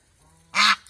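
A domestic goose on a farm lets out a single loud, nasal honk, brief and close by, after a moment of low background hum.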